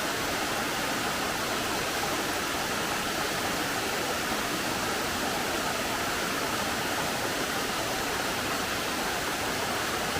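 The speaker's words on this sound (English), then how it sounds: "A beautiful twin waterfall here." Steady, dense roar of Long Creek Falls, a twin waterfall in South Carolina, pouring continuously, broadband and unbroken throughout, with no voices.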